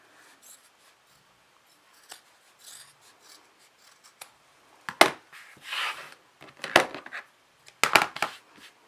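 Scissors trim the uneven fabric edges of a foldable shopping bag, starting as faint rasping snips and building to several louder, crisp cuts toward the end, close by with no talking.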